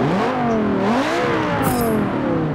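A Lamborghini Gallardo races hard, its engine note climbing and shifting in rising revving sweeps, loud and close, with a sharp high whine near the end.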